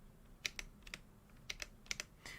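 A mechanical keyboard with squishy-sounding stabilizers takes about a dozen keypresses, sharp clicky clacks in short uneven pairs and clusters, quiet and close with no voices.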